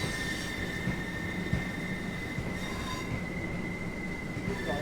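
A Class 377 electric train in the Train Sim World 4 video game runs along the track with a steady rolling rumble and a sustained high wheel squeal, no talk.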